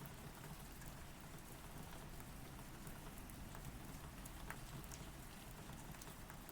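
Steady rain falling, an even and unbroken hiss of drops with no pauses, heard at a moderate level with nothing else over it.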